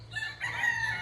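A rooster crows close by, a single strained call of about a second, loud and rising then holding steady, with no other sounds around it.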